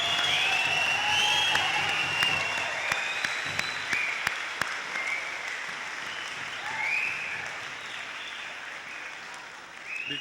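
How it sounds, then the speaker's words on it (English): A large crowd at a college graduation ceremony gives the graduates a long, steady round of applause, dense clapping with faint cheers that slowly tapers off. "let's give these graduates a nice round of applause"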